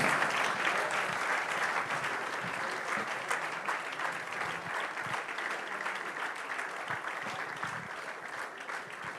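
Audience applause at a book launch for an entrepreneurial leadership book, a steady wash of many hands clapping throughout, moderately loud and continuous with no talk over it.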